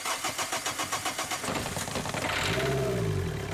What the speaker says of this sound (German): Starten Sie den Motor sofort und ohne die Stecker vorzuwärmen.